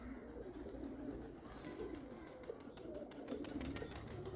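Soft, low cooing of a pigeon repeats in a steady murmur, with a few faint clicks in the background.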